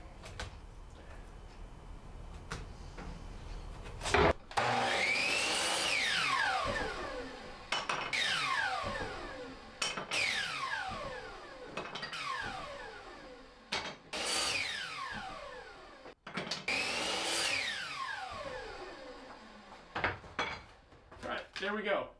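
A saw cuts wood pieces for shelves on a repurposed hat rack, several separate cutting runs each a few seconds long with rising and falling whine, close by, with brief gaps between cuts.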